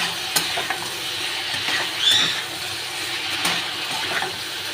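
Rui fish cooks down with spices in a pan for a Bengali potato and ridge gourd curry. A close, steady sizzle runs under repeated stirring clicks and scrapes, with a few brief louder bursts.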